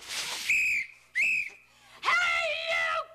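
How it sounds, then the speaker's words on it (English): Three shrill whistle blasts, the first two short and separated by brief pauses, the last longer and wavering, loud and close. "Blow your whistle."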